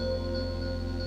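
A Pulsar synthesizer playing a sustained drone with its volume shaped by LFOs, a steady layered tone with a low pulsing flutter, fairly quiet and alone.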